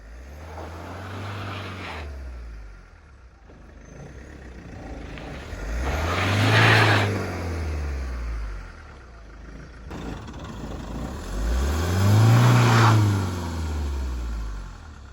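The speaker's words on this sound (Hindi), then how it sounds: "अब देख लिया कैसे एक टायर स्लिप कर रहा है।" A Mahindra Scorpio S10 4WD engine revs hard in repeated loud surges while one tyre slips for lack of traction, each rise and fall close by, with no talking.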